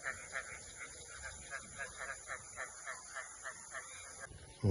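Faint, rapid quacking from ducks at a distant duck farm, a repeated series of calls over a quiet background, ending with a sudden close rustle.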